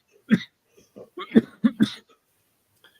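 A few short, throaty coughs close by, in quick bursts with brief pauses between them, followed by a faint final cough at the end.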